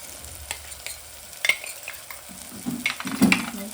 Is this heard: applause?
no